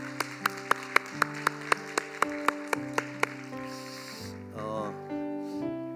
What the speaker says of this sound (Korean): 우리 한 번 더 높은 박수로 하나님께 찬송 올려드리겠습니다